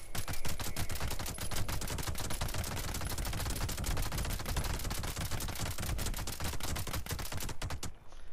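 Submachine gun firing in Fallout 76, a dense, continuous stream of rapid shots lasting about eight seconds, loud and steady without pause, with no talking.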